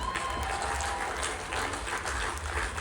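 A crowd at a miners' gala rally applauds, a continuous wash of distant clapping and cheering that holds steady for a few seconds.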